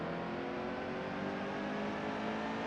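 Race car engines roar and whine continuously at high revs in the game NASCAR Heat 2, a dense wall of motor noise from several cars close together, with no talking.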